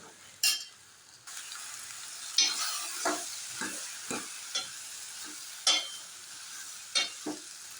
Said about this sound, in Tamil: இப்போ காய் வந்து நம்ம நல்லா கொஞ்சம் வதக்கிக்கலாம்